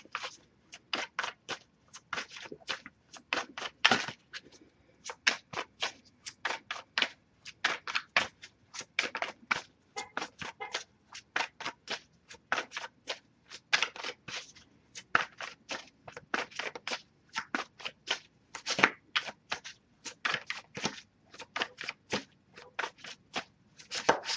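Tarot cards being shuffled up close, a long run of quick, crisp riffling taps in a steady rhythm with no talking.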